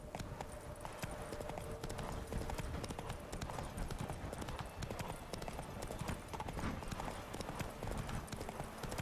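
Roach, a horse in a video game, trotting with a steady run of hoof clip-clops over a dense, busy game soundscape, held at a constant level throughout.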